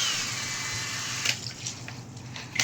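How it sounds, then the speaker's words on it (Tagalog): Water sprays and rinses over a wheel rim during car detailing after degreasing, a steady hissing rush that breaks into splashy spatters near the end. "Tubig ulit, tubig."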